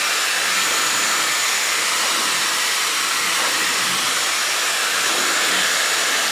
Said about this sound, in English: So what I'll do is I'll add the attachment of the blow dryer.